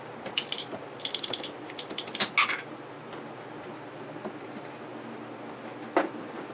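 A cracked pipe is cut off with a tool, giving a run of quick ratcheting clicks and scraping bursts followed by sparse, faint clicks and taps in a quiet room.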